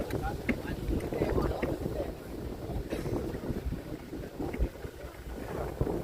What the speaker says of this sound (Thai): ตอนนี้กำลังนำเรือลงสู่สนามแล้วครับ